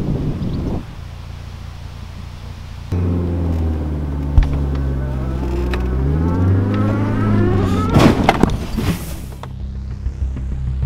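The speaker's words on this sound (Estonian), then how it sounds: "Auto tuleb tagasi parkida." A car reverses back into a parking spot, its engine rising in a revving whine that sweeps up and down, with wind buffeting and a couple of knocks, fairly close.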